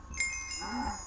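A cow in a video game lets out a single soft, low moo, fairly faint, with the game's ambient backdrop continuing underneath.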